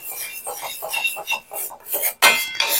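Hair dye ingredients being dry-roasted on low heat in a heavy iron pan, giving repeated scraping and metallic clinks of stirring in a steady, close rhythm, with one sharper louder scrape near the end.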